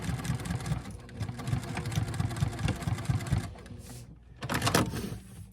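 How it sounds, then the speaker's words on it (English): A sewing machine topstitching over a seam on patchwork pants, running in a fast steady rattling burst, pausing briefly, then resuming for a short final stretch, close and fairly quiet. "we're gonna sew right on top of the seam"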